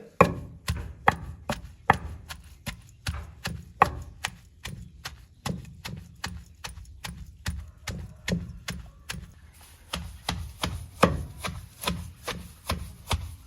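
Karisalankanni herbs for hair oil are pounded by hand, producing a steady rhythm of sharp, close thuds, roughly two per second, continuing for the whole stretch.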